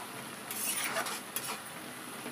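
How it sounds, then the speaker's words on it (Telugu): Onions fry in a home-kitchen pan for chicken gongura curry, a steady close sizzle with a faint scrape of stirring and a soft clink of utensils midway. "నెక్స్ట్ అయితే ఆనియన్స్ ఫ్రై అవుతున్నాయి."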